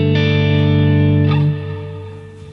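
An Ibanez AZES electric guitar with higher-output pickups rings out a sustained chord with a full, driven effects tone, then the ringing cuts off and fades into a short decaying tail.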